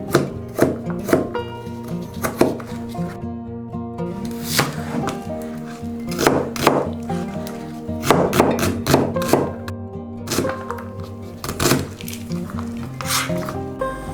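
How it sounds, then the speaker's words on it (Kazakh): A knife chops onion on a cutting board for zucchini caviar, giving sharp, close thuds in quick irregular bursts with brief pauses between runs. "пиязды плот пісіргенде қалай істейсіздер, солай қылып кесесіздер."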